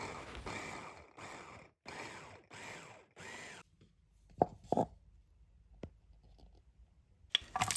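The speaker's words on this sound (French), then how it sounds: "hachez très finement 150 g de champignons" A knife finely chopping mushrooms on a board, five quick rhythmic bursts of close chopping followed by a few scattered clicks and taps.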